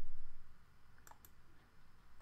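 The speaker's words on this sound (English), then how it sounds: "Select this one and type Control C from your keyboard." Keys on a computer keyboard are pressed for a Control C copy shortcut, giving two quick sharp clicks close by, alone over a faint low hum.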